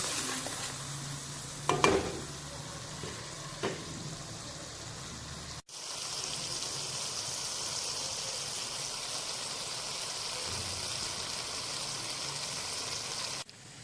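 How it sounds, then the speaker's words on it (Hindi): Masala sizzling and frying in a pan for pakora kadhi, with a couple of spoon scrapes and clinks early on, then a steady close hiss of frying spices continuing to the end. "तो 3 मिनट के लिए भून लें"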